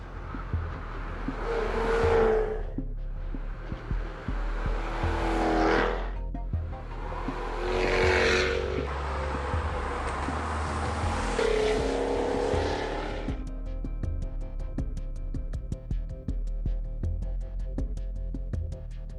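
A Jaguar F-Type Coupe engine roars through three strong surging acceleration pulls with gear changes between, loud and close, then settles into a quieter steady drone with no talking.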